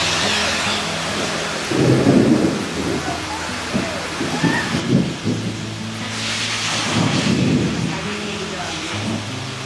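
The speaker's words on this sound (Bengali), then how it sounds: "খুব মুষলধারে বৃষ্টি হচ্ছে।" Heavy monsoon downpour in rural Munshiganj, Bangladesh, a loud continuous roar of rain with deep rolling thunder that swells twice, close and enveloping.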